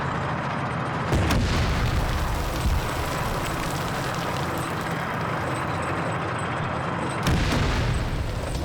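Heavy tank cannon blasts from a World War II Sherman tank in a 1948 Israeli–Arab combat game, two loud booming shots roughly six seconds apart over a constant rumbling engine and battlefield din.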